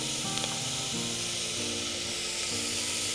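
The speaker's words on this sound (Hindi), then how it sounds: "इनको एक बार स्टर कर लें ताकि तेल में ये अच्छे से भुन जाए।" Vegetables for masala khichdi fry in hot oil with a steady, loud sizzle and hiss, and a few faint scrapes of stirring sound through the constant frying noise.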